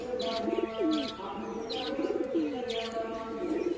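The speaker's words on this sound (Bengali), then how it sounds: "আর সব পায়রা আমার বাইরে রয়েছে, আর একটু পরে আমি এদেরকে ভেতরে করে দেবো।" Pigeons outside their loft cooing close by in a repeated, rolling rhythm, several soft throaty coos following one another over faint background noise.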